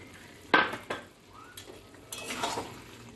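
Cooked mutton is tipped from a vessel into a cooking pot, giving a sharp metallic clank followed by softer scraping, knocking and a wet slide, close and fairly quiet, with no talk.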